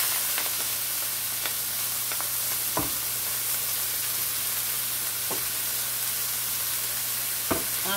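Onion, garlic, cilantro and shadow benny fry in a pot with a steady, close hiss and sizzle. A few soft knocks of stirring sound through, with no talking.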